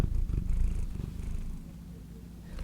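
A cat named Beans purrs close by, a steady low rumbling purr running continuously throughout with slight rhythmic swells, alone without talk.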